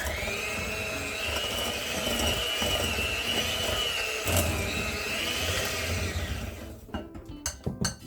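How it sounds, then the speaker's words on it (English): A hand mixer whirring steadily through cookie dough in a home kitchen, a sustained close motor whine with rattling beaters that cuts off near the end, followed by a few clinks. "using a hand mixer, I am going to mix for 30-40 seconds."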